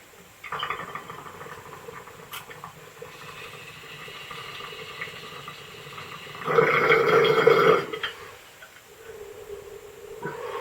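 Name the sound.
bubbling bong being hit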